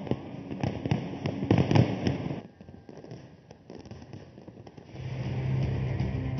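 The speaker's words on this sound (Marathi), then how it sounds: "आपल्या भात्यातून लढीपासून ते सुतळी बॉम्बपर्यंत सर्व फटाके काढले" Diwali firecrackers going off, sutli bombs among them, as a dense run of crackling bursts and pops in the first half. A quieter gap follows, then a steady low rumble.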